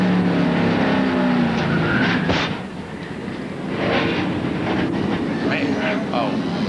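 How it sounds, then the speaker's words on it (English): NASCAR Winston Cup cars wreck violently during the 1997 race at Atlanta Motor Speedway: a loud, dense roar of engines and crunching impacts fills the whole stretch, dipping briefly midway before swelling again. "A very noisy and a very violent wreck."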